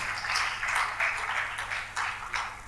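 A crowd at a tech summit in Africa claps together, a dense, even wash of applause heard at a moderate distance, slightly pulsing, with no speech over it.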